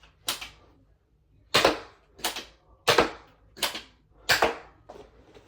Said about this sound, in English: Now onto a firing demo. Starting with normal Nerf Elite darts and all of the barrels.